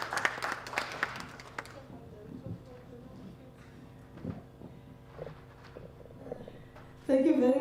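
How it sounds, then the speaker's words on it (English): Ceremony audience at the renaming of State House to Lillian Diedericks House claps in a short burst that dies away within two seconds, leaving scattered quiet shuffles before a speaker begins talking. "Let's give her a round of applause."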